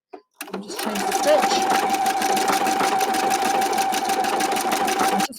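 A Husqvarna Viking sewing machine with a three-hole yarn foot stitches yarn onto fabric, running in one loud, steady whirring burst for about five seconds before stopping. A steady tone runs through it, with faint talk underneath.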